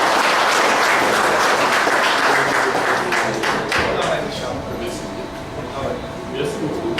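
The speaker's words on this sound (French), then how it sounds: "on applaudit mesdames et messieurs" Applause from a crowd after a political campaign speech in Petit-Bourg, loud at first and thinning as it goes on, with talk underneath and a few thumps.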